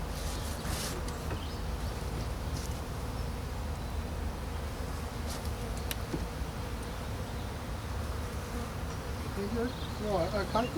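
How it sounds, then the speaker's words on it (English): Honey bees buzz steadily and close throughout an early-spring hive inspection, a dense droning hum with a few louder fly-bys, and no talk is heard. "But the bees are right up here now at the moment"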